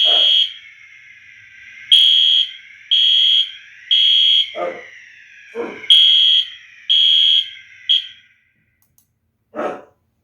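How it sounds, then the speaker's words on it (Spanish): A condominium fire alarm sounds in repeated loud, shrill electronic bursts of about half a second each, with barks from a dog in between and a final burst after a short pause. "Acá en el condominio que vivimos hay una alarma contra incendios"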